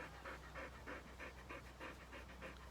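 A dog pants close by at an allotment in quick, steady, rhythmic breaths, with no talk over it.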